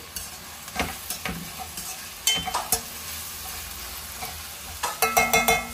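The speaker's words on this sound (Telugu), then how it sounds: "పుదీనా ఆకులు కూడా ఈ టమాటాతో పాటు ఫ్రై అయిపోతాయి." Mint leaves frying with tomatoes in a pan for dal khichdi, a continuous sizzle broken by repeated scraping stirs from a spoon, close and fairly loud, with no voices.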